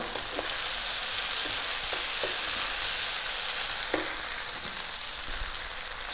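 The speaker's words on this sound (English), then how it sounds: "let's get our fried tofu in there" Fried tofu sizzles in a pan of curry, a continuous close crackle with occasional stirring clinks and scrapes, no voices.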